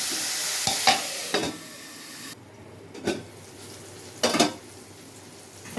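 Eggplant and tomato curry stirred in a pan, with a soft steady sizzle broken by a few sharp scrapes and clanks of the spoon against the pan at irregular intervals, close by, no talk.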